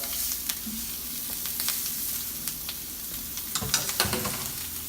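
Shrimp sizzle steadily in a hot pan, with soft crackles and scattered sharper pops, no voices.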